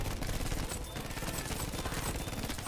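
Rapid, sustained gunfire from a shooter video game, dense overlapping shots rattling continuously at close range and high loudness with no pause.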